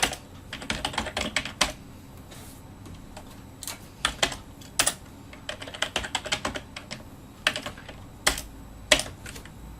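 Steady typing on a computer keyboard, close and crisp, with rapid clusters of keystrokes and occasional sharper single taps over a faint background hum, and no talking.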